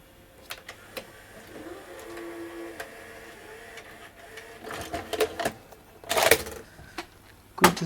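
A National NV-G10 VCR mechanism runs with faint whirring and soft mechanical ticks and clicks, building to a busier cluster of louder clunks and rattles toward the end.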